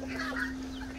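Chickens cluck softly at a farmyard on a very hot day, with geese kept nearby, brief low calls over a steady hum and background noise, no talking.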